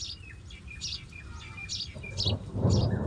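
A house sparrow chirps near its nest of chicks in a hill village in Pithoragarh, Uttarakhand, during monsoon-like weather. Short chirps repeat fairly close over a steady rumbling, rain-like background that grows louder toward the end.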